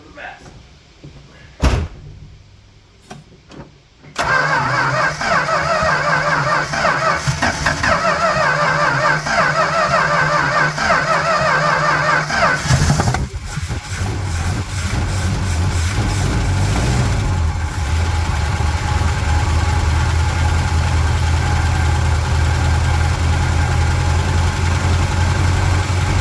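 A 1966 Dodge Coronet V8 cranks over after a few brief sounds, catches and settles into a loud, steady, fairly high idle that continues, with a shift partway through, as the engine keeps running.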